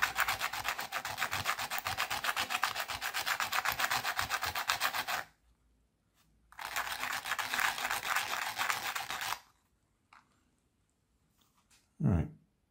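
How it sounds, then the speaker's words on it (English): An old solar garden light is rubbed clean by hand with a steady, rapid rasping scrub, close and loud, in two long bursts separated by a short pause, followed by a brief low knock. "Just looking if I've got something convenient to rub it clean with."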